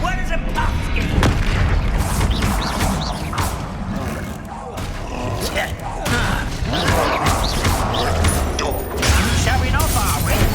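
Bombarda spell blasts in the video game Hogwarts Legacy, heavy booms and crashing impacts repeating through dense, loud combat noise with clanking mechanical rattles throughout.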